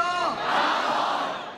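A large crowd of white-shirted protesters gathers in Victoria Park, Hong Kong, before a 2019 anti-extradition march. The mass of voices lets out a loud, sustained shout that rises and then slowly fades.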